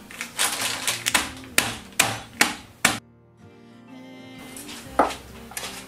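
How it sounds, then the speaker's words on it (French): Hazelnuts cracked in a kitchen: a run of sharp, loud knocks in quick uneven succession, a brief pause, then a few more hard cracks, with no talking. "on casse un petit peu les noisettes"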